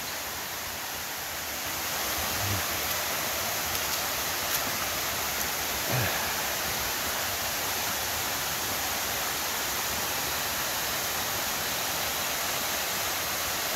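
Magana Falls in San Mateo, Rizal pours steadily, a broad, even wash of falling water that continues unbroken throughout at a moderate distance, with no voices over it.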